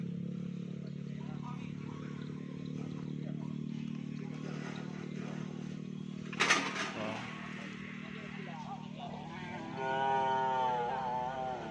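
A cow lets out a drawn-out moo at a bull racing practice ground in Asamanis, Pamekasan, where small racing cattle are training. It comes over a steady outdoor hum, with a person speaking nearby.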